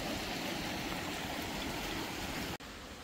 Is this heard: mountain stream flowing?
yes